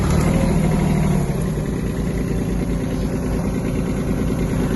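A Kubota A-15 Japanese mini tractor engine runs steadily at a constant throttle, a loud, continuous mid-pitched drone close by with no talk over it.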